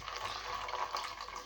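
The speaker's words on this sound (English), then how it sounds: "I'm just taking some water, it's the first batch of water coming out" Water runs steadily from a reverse osmosis system set up for window cleaning, a faint continuous trickle and splash filling a container, quiet and close with no talking.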